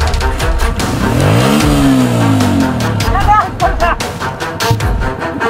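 Motorcycle engine revving up hard and dropping back, loud and close, with rising and falling harmonic sweeps and a steady rumble as people call out over it.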